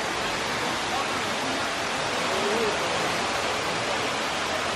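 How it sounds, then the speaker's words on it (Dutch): Waterfall heard from directly beneath it on a sunny day in the USA, a loud, steady broadband roar of falling water that fills the whole moment without pause. "We staan hier precies onder de waterval."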